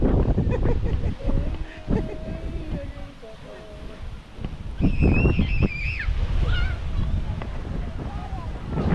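Strong wind gusts across Borawan Island in Padre Burgos, Quezon, at night by the surf, a steady broadband roar with waves beneath, voices talking and a brief horn-like tone partway through.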